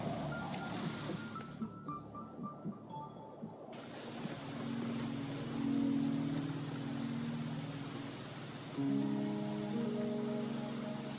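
Steady rain falling in the video game Wuthering Waves, a dense patter on surfaces heard under ambient game music and tonal effects, with no speech.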